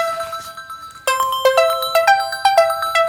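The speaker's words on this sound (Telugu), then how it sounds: "ఏ వాళ్ళు కొత్త నంబర్ నుండి ఫోన్ చేస్తారు" A mobile phone ringtone plays loudly and close, starting as a soft tone and then turning into a bright repeating melodic pattern of quick beeping notes, with no voices over it.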